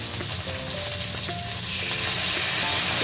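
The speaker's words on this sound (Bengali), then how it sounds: "সবজিগুলো আমার লাল করে ভাজা হয়ে গেছে, এবার আমি এতে দেবো আদা বাটা।" Vegetables, including drumstick pieces, frying in a pan for shukto with ginger paste just added, giving a steady, loud, close sizzle throughout with light scraping of stirring.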